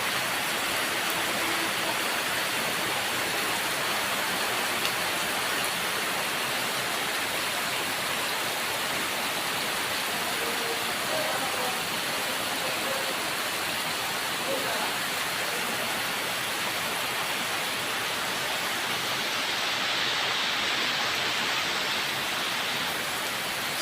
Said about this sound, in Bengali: শ্রাবণের বৃষ্টি আজ তিরিশ শ্রাবণ বা রাজধানীতে হঠাৎ বৃষ্টি শুরু হলো